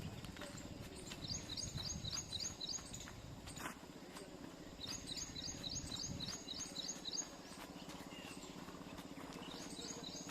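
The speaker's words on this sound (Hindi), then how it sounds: "यहाँ पक्षियों का कलरव इस क्षेत्र में जबरदस्त है" Birds chirp in short repeated bursts of bright, high tweets near a cauliflower field in a morning countryside setting, fairly distant and quiet over a low rumbling background.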